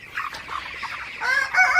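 Several 30-day-old broiler chickens on a farm, heard as a close, busy jumble of clucks and chirpy calls, growing louder and more insistent toward the end.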